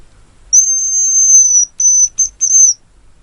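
A hazel grouse decoy whistle sounds one long, thin, high-pitched note lasting about a second, followed by three shorter whistled notes in quick succession, clear and close against a quiet background.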